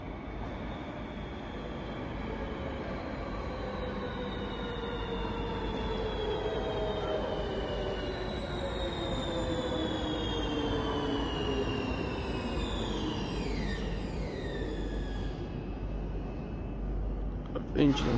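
A metro train comes in through a tunnel at Rotterdam Centraal station, a long rising rumble with high, drawn-out wheel squeals over the points, steady and fairly distant throughout.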